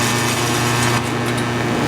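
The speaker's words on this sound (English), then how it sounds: "I start welding as far up in here as I can possibly see" Welding a custom exhaust pipe on a Coyote Mustang produces a steady, loud buzzing hiss with a constant hum underneath. It runs unbroken and close up, with no talking.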